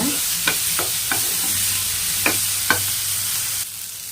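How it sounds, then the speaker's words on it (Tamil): Tomatoes sautéing in a pan, two of them added to the cooking, with a steady sizzle under a few sharp scrapes and knocks of a spatula stirring. A short, close clip with no voices. "தக்காளி சேர்த்தோம் அப்படின்னா சரியாக இருக்கும் சேர்த்துட்டு இதையுமே நல்லா வதக்கிக்கோங்க"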